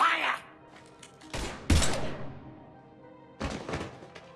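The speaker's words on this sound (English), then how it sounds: "Now open fire!" Gunfire from the video game Mass Effect 3 comes as a few heavy bursts and thuds, mixed with game sound and speech.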